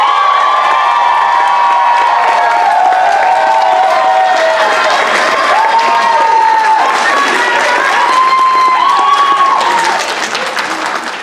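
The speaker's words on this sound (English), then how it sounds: "Let's all give it up for our former Caillou intern, third year running co-chair Micaela Salvador." Loud, sustained applause and cheering from a student audience at a Pilipino Cultural Night show at Stanford, with whoops and high shouts over steady clapping that fades slightly at the end.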